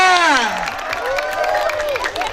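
An audience at an evening arts performance celebrating Indonesian independence claps and cheers loudly, with shouts and whoops rising over the dense clapping.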